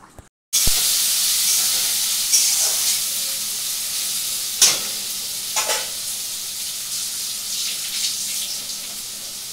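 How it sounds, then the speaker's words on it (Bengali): Onions sizzle steadily in hot oil as a tempering (phoron) alongside potatoes, a continuous loud frying hiss with a few sharper pops and stirring scrapes, no voices. "এখানে পেঁয়াজ ফোড়ন দিয়ে দিলাম, আর এদিকে আলু।"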